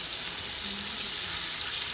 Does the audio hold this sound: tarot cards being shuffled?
no